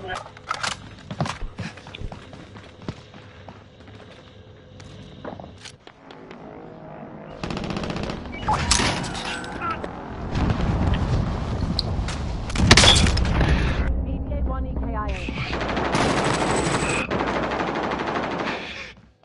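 Gunfire in the shooter game Warzone: scattered single shots early, then long loud bursts of automatic fire with booms and footsteps, and a voice shouting callouts between and over the shooting.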